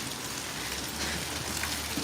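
Steady rain falling on surfaces in the Chughureti neighborhood of Tbilisi, a constant dense hiss of drops with no talking.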